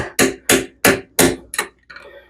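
Work on the mounting bolts of a toilet during removal gives six loud, close, sharp knocks at a quick, even pace, the last one lighter and followed by a faint rattle.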